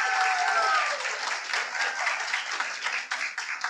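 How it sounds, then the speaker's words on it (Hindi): Mushaira audience applause at a poetry gathering in Bhopal, a dense wash of clapping that begins fullest and gradually thins into scattered claps. "इस्तकबाल तो तालियों में कीजिए आप लोग।"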